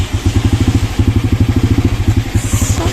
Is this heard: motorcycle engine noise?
yes